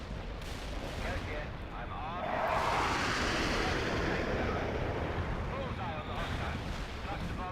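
Sustained rumbling airstrike explosions and heavy battlefield fire in the World in Conflict game, a dense continuous roar that swells louder midway and persists throughout, with voices over it.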